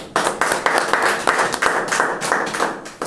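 A church congregation at a Sunday evening service claps in a quick, steady rhythm for about three seconds, loud and close with no talking.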